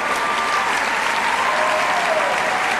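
An audience at a ballroom dance competition gives sustained, dense, loud applause after an international Latin rumba final, crowd cheering mixed in throughout.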